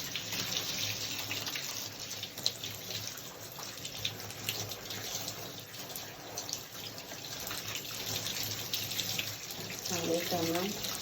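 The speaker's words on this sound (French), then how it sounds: "Donc, on rince bien les cheveux. Toujours en douceur." Tap water runs continuously while a child's hair is rinsed, a steady close splashing and pouring that carries on without pause.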